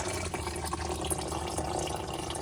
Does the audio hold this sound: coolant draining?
yes